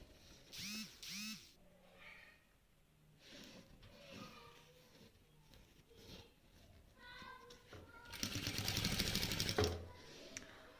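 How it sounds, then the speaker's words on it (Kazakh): A sewing machine stitches a felt chest with pink thread, running in a loud, steady mechanical burst near the end after quieter handling noises and brief squeaky sounds, close up, with no speech. "менде қазір фиолетовый жіп болмағандықтан розовый жіппен тігіп жатырмын"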